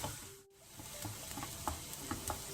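Onions with a pinch of salt frying in a pan, a soft steady sizzle with occasional stirring clicks and scrapes, close and fairly quiet, no voices.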